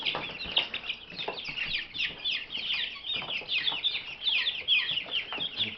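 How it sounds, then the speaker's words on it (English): Many small three-week-old chicks, including Black Copper Marans, peep and cheep continuously at close range, high chirps overlapping in a busy, restless chorus with no talking. "That's a hen, black copper Maran."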